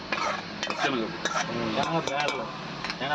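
Tomatoes and chana dal stirred in a pot while cooking aboard a truck, giving continuous scraping and clinking of a spoon against metal with a light sizzle underneath, close and steady.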